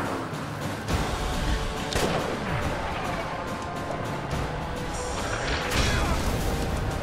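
Sniper rifle gunshots from the Resident Evil 5 video game, heard as a dense run of booming, crashing shots and bursts under a constant bed of game noise and music.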